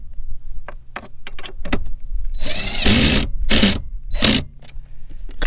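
A power tool runs in several short bursts, driving and tightening 7mm bolts on a wobbly F-body steering column, with brief pauses between each close, loud spin.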